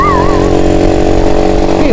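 A motorcycle engine drones loudly and steadily at close range while the rider films on the road, a constant mechanical hum with no break.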